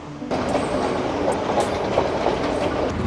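A train rumbles along seaside rails nearby in Colombo, Sri Lanka, a steady loud roar with faint clacking and occasional squeals of the wheels.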